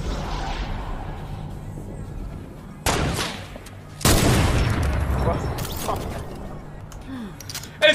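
Gunfire from the Fortnite video game: a loud burst of shots near the 3 second mark and a sustained volley from about 4 seconds on, over background game noise, with players talking across the exchange.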